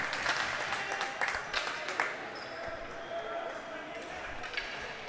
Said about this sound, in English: Nathan Yetman gets a big hand from the crowd here at the Glacier.